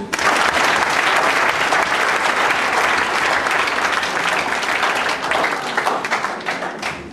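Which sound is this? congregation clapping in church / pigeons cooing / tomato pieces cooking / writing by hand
congregation clapping in church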